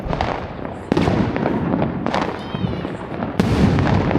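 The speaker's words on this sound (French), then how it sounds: "J'entends des feux d'artifice qui pètent depuis tout à l'heure, c'est incessant dans tous les sens." Fireworks and firecrackers burst nonstop across a city in Jaipur during Diwali, with sharp cracks and rumbling booms arriving from several directions over a dense, continuous crackling backdrop.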